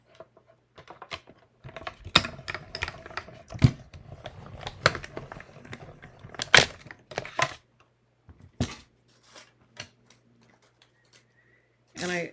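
Pieces of cardstock being cut out for a Paper Pumpkin card project, heard as many close, crisp snips and clicks in irregular bursts, then a few scattered cuts, with a faint hum underneath.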